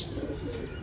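Pigeons kept for racing coo softly in rainy weather, a low, murmuring burble that runs steadily through the brief moment, fairly close, with no talking.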